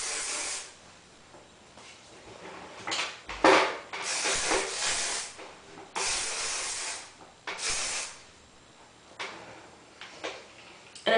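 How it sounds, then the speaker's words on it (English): Garnier Sleek and Shine Anti-Humidity hairspray sprays in several long, close hissing bursts with short pauses between, while hair is styled into beachy waves. "I just use a whole ton of hairspray"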